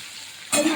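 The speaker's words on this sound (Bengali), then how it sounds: "ডিম ভাজাটা বসিয়ে দেবে" An egg frying in a pan bursts into sizzling after a quiet start, a bright crackling hiss that holds steady and close for the rest of the brief moment.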